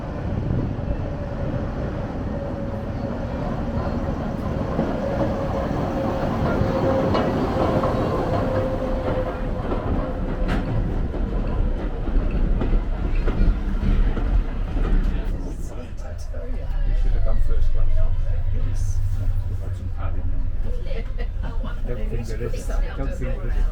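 Model railway trains running at a club exhibition with the Cambrian Heritage Railway, a steady rumble and rolling clatter of wagons heard up close under continuous chatter from visitors nearby.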